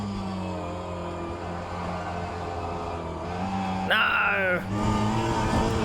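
Mini Cooper engine in the rFactor 2 racing game at Sebring club circuit, a steady droning hum that rises into a sharp rev climb near the end, with someone talking over it.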